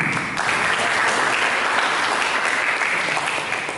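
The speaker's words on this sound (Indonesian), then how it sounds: "Mari berikan tepuk tangan bagi kita." Many hands clap at once in a church congregation, a thick, steady roar of applause that holds at an even level, easing slightly toward the end.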